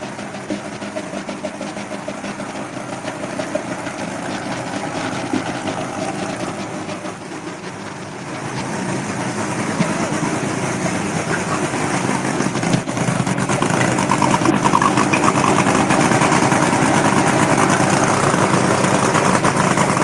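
A truck engine idles steadily while warming up before a truck pull, a dense broadband rumble that holds at an even loudness throughout, with crowd noise and the drone of other machines around it.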